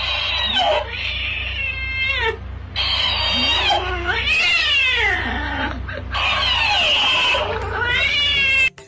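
Cat-like yowls and meows from an animal resembling a large rat, a run of drawn-out wavering caterwauls, loud and close, with short gaps between calls.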